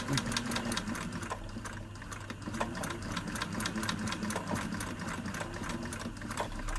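Sewing machine stitching coiled rope into a spiral bowl, run from a foot pedal: a steady mechanical whir with rapid needle ticks, continuous and close.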